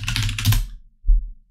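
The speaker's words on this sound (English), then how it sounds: "So I'm going to press C on my keyboard" Keys pressed on a computer keyboard during 3D rendering work in KeyShot, a short burst of clicks followed by a single heavier keystroke, close and alone.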